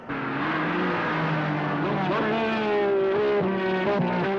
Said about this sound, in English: here we are testing now a new combustion chamber for the 1978 model